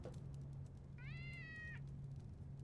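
A single drawn-out meow from a pet cat rises clearly for under a second over a steady low hum, then fades back into the quiet background.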